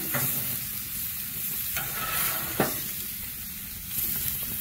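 Lamb chops and burgers sizzle steadily on an outdoor grill just after being flipped, a continuous close hiss and crackle with a couple of sharp pops, with no talking.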